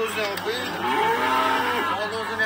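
A Swedish-breed cow moos once in a long, low, drawn-out call, close by and fairly loud.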